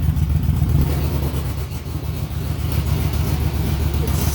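A 2006 Yamaha Vmax muscle cruiser motorcycle idles with a deep, lumpy, rough rumble, loud and close, throbbing steadily throughout.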